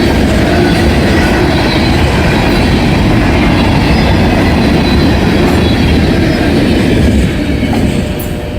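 A loud train rumbles past close by, a continuous heavy roar of wheels and cars on the rails that eases slightly at the end.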